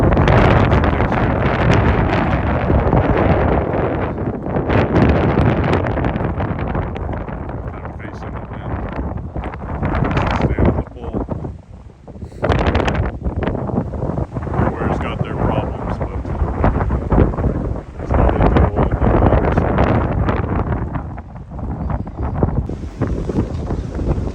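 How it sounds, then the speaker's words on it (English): Strong wind buffets the microphone in loud, continuous rumbling gusts, briefly easing in places, with a voice partly buried beneath it, outdoors in Ueno Park near the zoo in Tokyo, seagulls nearby. "It's so windy, sitting there trying to hold on."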